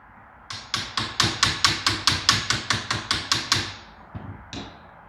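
A steel hammer strikes a steel swage inside a dented steel shotgun magazine tube of a Winchester SXP, about fourteen sharp, evenly spaced metallic blows close up, followed by a pause and two lighter taps.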